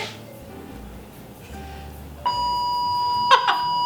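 Doorbell ringing, a bright electronic chime sounding once near the end over a quiet room hum, after a couple of faint muffled tones.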